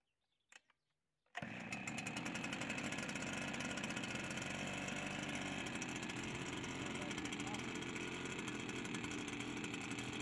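A petrol engine on a garden sprayer, used for treating an orchard with iron sulfate, catches after a couple of brief pulls and settles into a loud, steady buzzing run close by.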